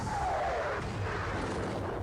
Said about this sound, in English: I think we can fire on them.